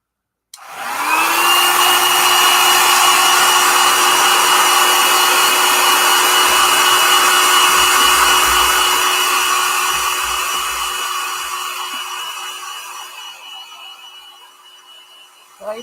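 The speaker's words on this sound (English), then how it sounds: "I could actually dry it with my hair dryer." A hand-held hair dryer blows on fresh craft paint, switching on with a rising whine, then holding a loud, steady whirring roar for many seconds before tapering and clicking off.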